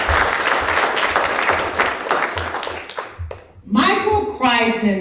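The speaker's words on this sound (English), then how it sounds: "let's give another hand clap for Jay." Audience at a Black History Month family fest claps loudly for about three seconds, a dense wash of applause that fades out as a voice starts speaking close by.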